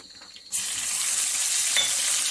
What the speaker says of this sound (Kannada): ಎಣ್ಣೆ ಚೆನ್ನಾಗಿ ಕಾದರೆ ಸಾಸಿವೆ ಬೇಗ ಸಿಡಿಯುತ್ತೆ ಪಟಪಟ ಅಂತ